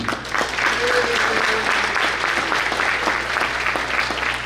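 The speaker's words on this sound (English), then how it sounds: "So let's give a round of applause to our Honorable Thomas DiNapoli." Audience at a spring brunch gathering claps steadily for an honored official, a full round of applause with faint voices mixed underneath.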